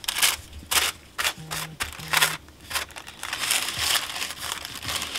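Tape being pulled and pressed onto tissue paper wrapped around a candle, with close, papery crinkling and rustling in irregular bursts and a couple of brief tearing or rasping strips of tape.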